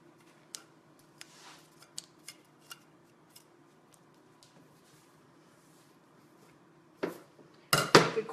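Black fondant being cut, probably with scissors, gives a scatter of small sharp clicks and snips at irregular intervals before a louder crunchy burst of cutting at the very end.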